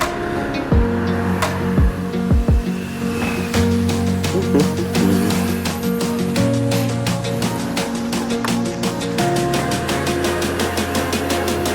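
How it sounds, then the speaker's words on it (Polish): A Zipp Veracruz 125 scooter engine runs steadily throughout, with a buzzy idling drone and a few sharp clicks near the start, loud and close with no talking. "Dźwięk wiadomo jest jak skuter."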